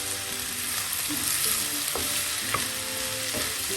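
Capsicum and onion frying in a pan for a Kerala mezhukkupuratti, with a steady sizzle and a few spoon scrapes against the pan as the vegetables are stirred.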